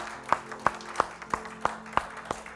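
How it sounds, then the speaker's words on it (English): Rhythmic hand clapping from a church congregation at a Sunday service, about seven even claps in steady time, fairly soft and slightly distant. "Give him a hand clap this morning."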